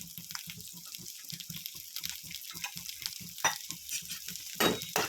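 Small shallots and garlic are sautéed in a kadai for a manathakkali kai chutney, giving a soft hiss of frying with a steady rhythmic scraping of a spatula stirring against the pan, close and fairly quiet.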